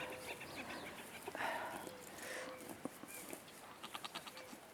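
Curious goats bleat a few times on a farm, with faint livestock calls and background noise around them; no one speaks over them.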